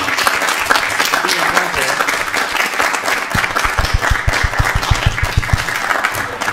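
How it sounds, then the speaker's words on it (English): Audience applause at a multichannel music workshop, sustained crowd clapping filling the room at steady loudness with dense overlapping hand claps throughout. "giving a round of applause"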